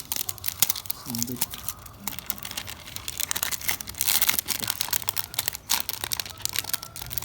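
Protective cover peeled off a whiteboard wallpaper sticker, giving a run of crinkling, tearing plastic sounds with irregular crackles close to the microphone while a person talks over them.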